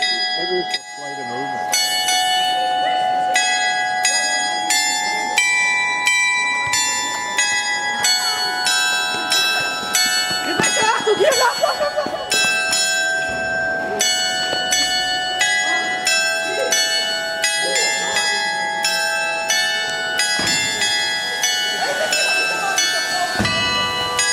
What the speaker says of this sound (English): Listen to the anthem for the European Union played on bells on this square in Koblenz.